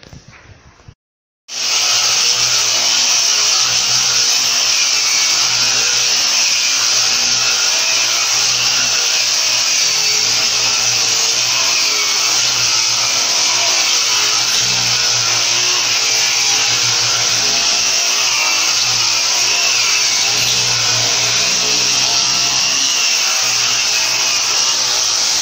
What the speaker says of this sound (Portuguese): Então vou dar uma aparelhada legal aqui